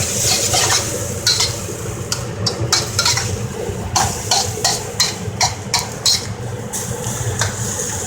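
Drunken rice cakes stir-fried on high heat in a pan, a loud continuous sizzle broken by frequent quick clanks and scrapes of a utensil against the metal, with no voices.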